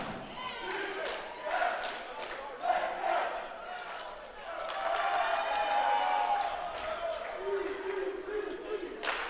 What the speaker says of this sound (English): Great job by the Cardinal cheer team.